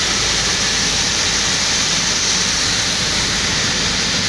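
An automatic car wash at Batu 7 Jalan Kapar, Klang, blasts water over a car, heard from inside as a loud, constant roaring spray with no pauses and no voices.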